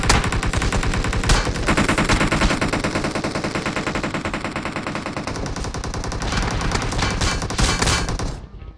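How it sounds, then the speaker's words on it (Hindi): Sustained rapid automatic gunfire in the mobile battle royale game BGMI, shooting at car tyres, loud and continuous with dense bursts and no talk, cutting off at the end. "अब ये बंदा पता नहीं क्यों मेरे टायर पंचर कर रहा था।"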